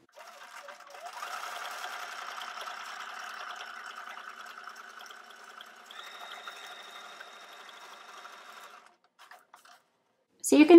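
A sewing machine with an edge stitch foot hums steadily for about eight seconds, stitching a flat felled seam on denim, its pitch shifting partway through before stopping, followed by a brief clatter.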